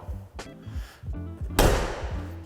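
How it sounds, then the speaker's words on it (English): A door on a 1977 Porsche 911 S slams shut with a solid, close thud, followed by a brief lingering rattle, after softer handling clunks and faint background noise. "Door fitment and closures on both doors sounds and feels exactly"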